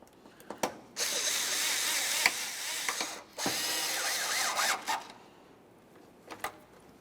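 A power tool drives a mounting bolt on a 1994–1997 Honda Accord corner light. Two close, loud whirring bursts of about two seconds each are set apart by sharp ratcheting clicks and knocks, with no talking.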